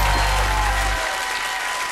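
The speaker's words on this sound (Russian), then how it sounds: "Эти аплодисменты вам!" Applause rings out in the Field of Miracles TV quiz video game, a dense clapping crowd sound, loud and continuous, with a low accompanying tone dropping away midway.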